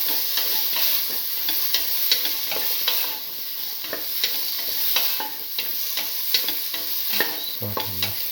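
Bottle gourd and red chillies sauté in a pan with a steady loud sizzle, broken by repeated scraping of a spatula stirring, close and continuous with no talking.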